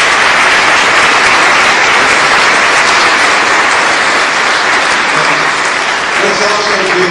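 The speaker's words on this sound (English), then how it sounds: "Let's give these two gentlemen a big round of applause." An audience at a 2007 Clinton School talk gives loud, sustained applause, a dense wash of many hands clapping together that stays steady throughout.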